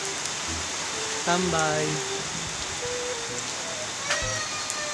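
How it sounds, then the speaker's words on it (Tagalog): Steady rain falling in Candelaria, Quezon Province, a constant hiss filling the background while people talk and exclaim over it. "Umulan pa!"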